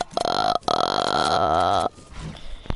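A long, loud, croaking burp rattles on for nearly two seconds after a brief initial grunt, then gives way to quieter background noise.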